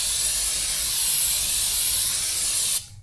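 Aerosol spray can hissing steadily onto the surface of a drilled and slotted rear brake rotor from a 2005–2010 Jeep Commander, one continuous close burst lasting nearly three seconds before cutting off abruptly.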